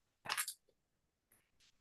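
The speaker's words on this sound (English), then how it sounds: "I'm chewing baseball, chewing these baseball seeds" Sunflower-type baseball seeds crunched between the teeth: one loud close crunch burst followed by fainter chewing bits, with no talking.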